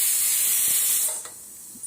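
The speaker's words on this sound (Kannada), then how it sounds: "2 ಸೀಟಿ ಆದ ಮೇಲೆ ಗ್ಯಾಸ್ ಬಂದ್ ಮಾಡಿದ" A pressure cooker on a gas stove cooking chicken biryani lets out a loud, hissing steam whistle that cuts off abruptly after about a second, leaving a quiet background.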